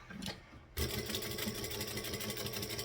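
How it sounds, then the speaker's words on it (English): A sewing machine stitches a bag, starting after a brief pause and then running as a steady, fast, rhythmic mechanical whir with even needle beats, close and continuous. "So again, into the hole, stitch it down"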